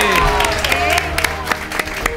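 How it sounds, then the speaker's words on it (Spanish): Studio audience applause on a Spanish television show, loud bursts of clapping and crowd noise mixed with overlapping voices and a tonal background, the hand claps standing out as sharp irregular hits. "Pueden aplaudir"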